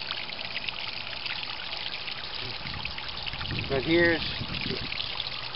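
Water trickles from a plastic tub weir in a homemade backyard waterfall, dropping in several places with a continuous splashing patter. A voice speaks briefly over the steady flow.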